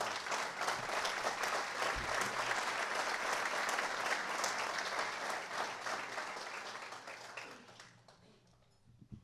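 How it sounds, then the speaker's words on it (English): Audience applause at a lecture dinner, dense sustained clapping from a crowd that carries on for several seconds before tapering off near the end. "Round of applause for those companies."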